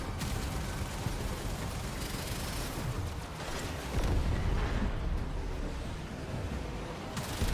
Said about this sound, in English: Oh no, I got hit by a torpedo.